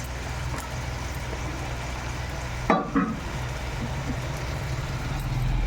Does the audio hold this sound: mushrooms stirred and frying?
yes